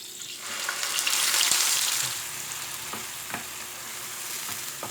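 Masala paste frying in a pan for cauliflower kofta curry, with a loud broad sizzle that swells early and then settles into a steady hiss, broken by a few sharp clicks of a spoon stirring.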